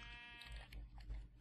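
Sheep in the game Minecraft bleat several times in quick succession, short wavering cries close by and fairly quiet, with a faint game background behind them.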